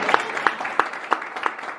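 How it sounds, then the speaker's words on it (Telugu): At a Friday church worship service, the congregation claps loudly in unison, about six sharp, evenly spaced claps in a quick steady rhythm, with no talking over them. "గట్టిగా చప్పట్లు కొట్టండి"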